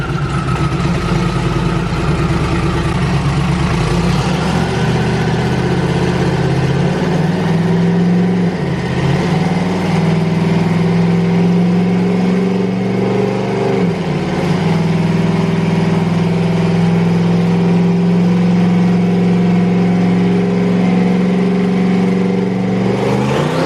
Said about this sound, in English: Just got done doing that dyno run